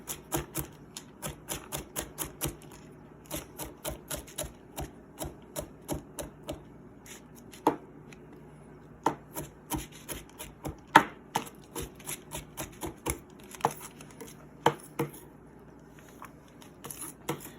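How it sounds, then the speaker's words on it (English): Celery is chopped with a knife on a cutting board, a quick, close series of sharp taps in uneven bursts that sometimes slow to single cuts, with no voice over them. "And I'm going to chop my celery up."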